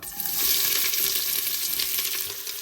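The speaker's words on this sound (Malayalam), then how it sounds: "ഇത് നന്നായിട്ടൊന്ന് വഴറ്റി ചെറുതായിട്ടൊന്ന് ഫ്രൈ ചെയ്ത പോലെ ആക്കണം" Four sliced onions frying in hot oil with whole spices for mutton pulao, a steady, close, fairly loud sizzle with occasional stirring.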